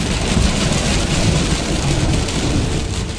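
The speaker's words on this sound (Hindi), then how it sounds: "यहाँ पे इतनी तेज बारिश थी कि मैं आपको वर्ड्स में बता नहीं सकता।" Heavy rain pours down on the Peshawar motorway, a loud, dense, continuous hiss and drumming of rain on the surface with no voices.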